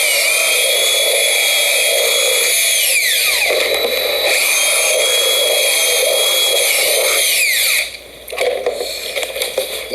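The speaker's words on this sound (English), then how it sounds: "what you want to do is take your drill bit and you're going to drill" A power drill bores holes through a plastic bucket lid, running loud and steady for most of the stretch with its whine sweeping in pitch as it speeds up and slows, then cutting out near the end.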